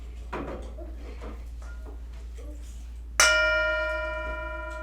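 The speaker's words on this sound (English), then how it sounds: "Enjoy this moment, this bell." A single prayer bell is struck during a Buddhist-Christian Lent service, ringing out clear and bright and then sustaining in a long, slowly fading shimmer after a few soft rustles and faint murmurs.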